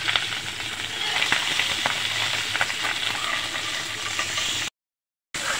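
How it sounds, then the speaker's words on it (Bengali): Pabda fish frying in hot oil in a pan, a steady dense sizzle with faint crackles running close and continuous, with a brief gap of silence near the end. "আমি বাকি মাছগুলো ভেজে দিচ্ছি"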